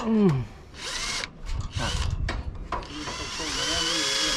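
A power drill whirs in several short bursts while repairing a leaking tiled roof, starting and stopping repeatedly, loud and close, with brief pauses between runs and a steady whine at the end.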